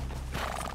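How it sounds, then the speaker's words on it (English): A horse in the Red Dead Redemption 2 video game lets out a short, sharp neigh, a brief whinny under a second long, close and clear. "Get a hold of that horse, Mr. Morgan."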